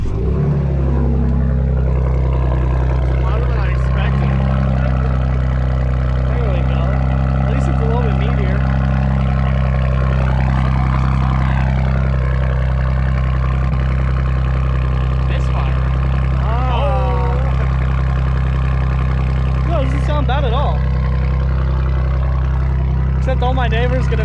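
Ford Bronco with an aftermarket exhaust starting up and idling, a loud steady low exhaust drone that holds for a long stretch close by, with people talking over it.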